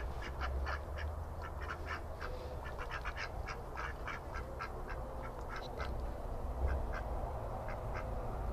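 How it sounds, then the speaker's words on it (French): Ducks quack repeatedly in a permaculture garden, a run of short nasal calls in irregular bursts from a few birds somewhere off in the shade, moderately distant over a low outdoor background with no voices. "Ah, les canards."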